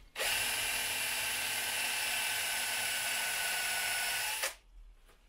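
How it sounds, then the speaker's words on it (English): A power drill whines at a steady high pitch for about four seconds while cutting with a brass tube used as a hole saw, then cuts off abruptly. "And then you start drilling."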